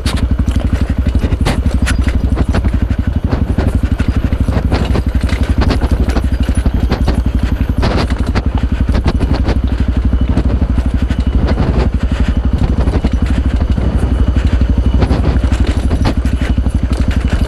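A stock Yamaha WR155R trail motorcycle rides off-road, its engine droning loud and continuous with constant clattering and thumping from the rough terrain.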